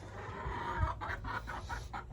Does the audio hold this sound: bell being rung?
no